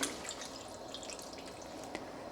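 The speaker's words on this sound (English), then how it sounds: "And then I'll pour the milk in here." Coconut milk poured from a can into a pot while an Indian dish is cooked, a faint liquid trickle and drip close by with a small splash near the end, no talking.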